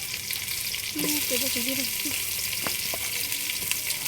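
Chopped onions fry in a village kitchen with a bright, constant hiss, punctuated by occasional utensil clicks as they are stirred, while a brief voice-like murmur rises early on.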